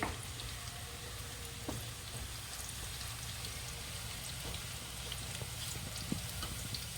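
Garlic sizzles steadily in hot oil for a sarson ka saag tadka, a soft continuous crackle and hiss close by with no voices.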